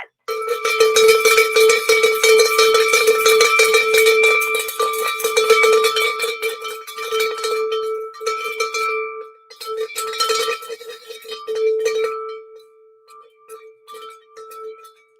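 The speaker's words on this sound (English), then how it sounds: "Let's ring the bell." A handheld bell is rung rapidly with both hands, producing a bright, ringing metallic clang that is loud and close, continuous for several seconds, then in shorter bursts that fade out.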